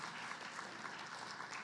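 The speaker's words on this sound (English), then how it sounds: "Let's give Dr. Jamila Ali another round of applause." Seminar audience clapping for a speaker, a brief, fairly faint spell of dense, even applause from a crowd in a hall.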